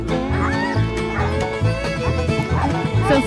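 Excited huskies bark and yip before a sled ride, with a steady chorus of yelps and barks close by and continuous background noise throughout.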